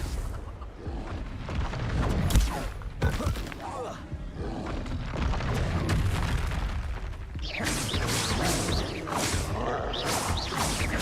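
Blasting-curse spells explode in a Hogwarts Legacy fight, with repeated heavy booms and crashes against a busy combat mix.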